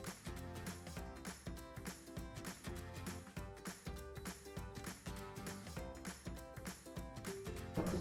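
A sewing machine stitches the bottom of a fabric wallet with a quiet, fast, regular mechanical chatter that repeats in steady bursts.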